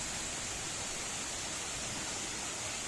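Water pours down from above at a cave temple of Mata Pingla, making a steady, even rush of falling water with no voices.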